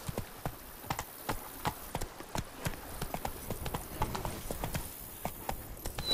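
Hooves of the horse Roach clip-clop in a fast, rhythmic gallop in The Witcher 3: Blood and Wine, sharp repeated strikes close up, with faint game ambience behind.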